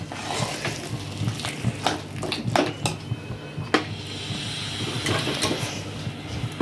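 Cauliflower with potato being mixed in a pan with a utensil, close clinks and scrapes of metal on the pan repeating irregularly along with soft squishy stirring, no voices.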